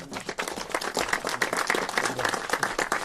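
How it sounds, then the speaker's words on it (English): Dense applause from an audience for California Governor Gavin Newsom at a redistricting event, many hands clapping steadily and fairly close for several seconds with a few voices underneath. "Can we please give him a round of applause?"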